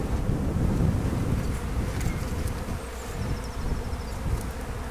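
A steady low hum of honeybees rises from an opened beehive during a spring inspection outdoors in warm weather in the Pas-de-Calais, a continuous drone with light wind noise and a few faint higher buzzes passing.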